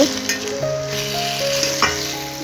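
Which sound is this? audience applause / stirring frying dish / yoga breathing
stirring frying dish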